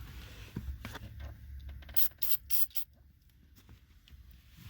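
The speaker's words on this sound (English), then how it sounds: "you're just going to spray it." Aerosol or pump spray hissing onto an interior trim part of a BMW E38, a few short bursts in quick succession with quiet handling noise between, close by and moderately loud.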